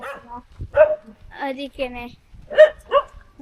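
A dog gives a few sharp barks, loud and close, spaced apart and mixed in with people talking nearby.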